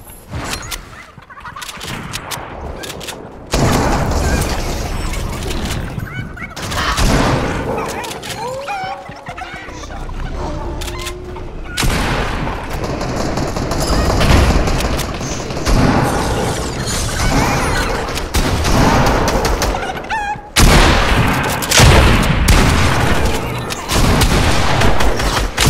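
Gunfire in a multiplayer shooter video game rattles in dense bursts across a long stretch, loud and close, mixed with other game effects and rough background noise.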